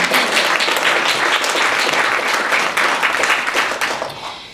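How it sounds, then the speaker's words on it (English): An audience at a women's international day event breaks into loud, sustained applause, a dense wash of many hands clapping that fades slightly at the end. "That's right, an applause for that."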